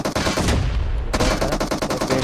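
Gunfire in the PUBG Mobile video game: loud, rapid automatic bursts of shots in quick succession, with a brief pause between volleys.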